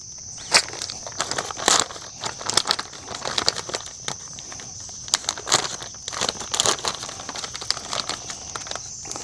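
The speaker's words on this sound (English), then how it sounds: "So you just need to cut this out. Be sure you don't mess the bait up and cut the bait." Scissors snip and crinkle through a small green plastic fly trap, cutting around the bait, with irregular close rustling and crunching cuts over a steady high-pitched hum of insects or background noise.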